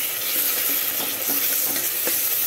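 Ginger and onions fry and sizzle in a pan for mutton curry, a steady broadband crackle with occasional stirring scrapes, close and fairly loud, no voices.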